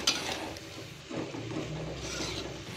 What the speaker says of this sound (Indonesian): Tinggal dicampur aja kemudian kalau udah dicampur tinggal ditambahkan dimasukkan ini tempe yang tadi udah digoreng.